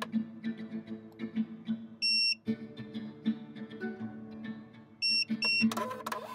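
Two pairs of short, high electronic beeps from a Flashlabel A318 thermal label printer ring out over soft tapping and mechanical clicks, followed by a brief whirring printer feed.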